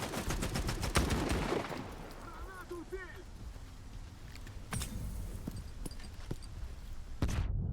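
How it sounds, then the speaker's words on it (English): Enemies fire on the player in the video game STALKER 2, with a rapid burst of close gunshots at first, then scattered individual shots and sharp cracks, mixed with a voice talking and game noise. "And they're so much better at shooting me than I am at shooting them."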